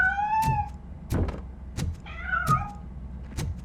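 A cat meows in the video game Robocop: Rogue City, two clear drawn-out meows about two seconds apart, mixed with sharp knocks and thuds like footsteps or a door, with no talking.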